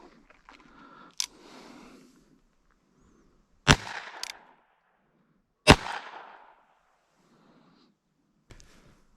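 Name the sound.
Federal 22LR small game shotshell fired from a gun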